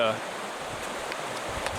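Creek water flowing through a canyon, a steady broad rushing hiss close by with a brief voice at the very start.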